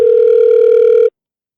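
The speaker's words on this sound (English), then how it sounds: "we're going to give Dorian a call, and we're going to get him rocking in on this thing" A telephone tone sounds while a call is being placed: one steady, clear electronic beep lasting about a second before cutting off into silence.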